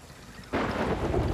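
A rainstorm with thunder on an island in the Sea of Thieves video game breaks in abruptly as a loud, broad rushing roar and continues steadily to the end.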